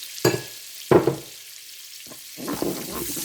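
A spoon scrapes and stirs ingredients in olive oil in a pan, giving a few distinct stirring strokes and then a softer, continuous sizzle close up.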